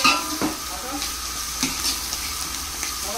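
Sprouted bean usal stirred and frying in a pan with onion, chili, garlic and curry leaves, a steady close sizzle broken by a few scraping strokes of the spoon against the metal.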